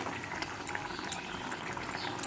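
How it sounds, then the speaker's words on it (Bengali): Papaya curry bubbling in a pan on the stove, a soft, steady simmer with scattered small pops and bursts and no talking. "দেখুন তরকারিটা ফুটে উঠেছে ভালো, আর মাখো মাখো ভাব এসে গেছে"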